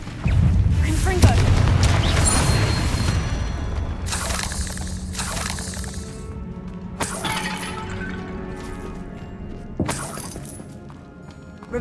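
Confringo fire spells explode in Hogwarts Legacy, loud blasts with shattering crashes and booming rumbles that repeat several times over steady game noise.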